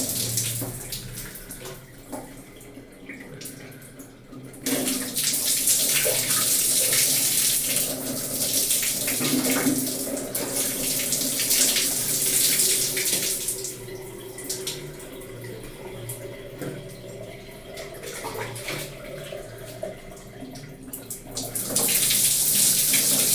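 Warm tap water runs steadily in a hushed, splashing stream during a hair wash after a hair transplant, close up and fairly constant with slight shifts in flow.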